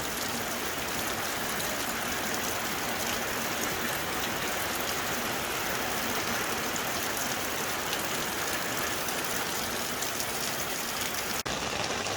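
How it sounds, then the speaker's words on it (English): Heavy rain pours down steadily in a dense, even hiss with no pauses, loud and close, with no voices over it. "We got a big band of rain just coming through."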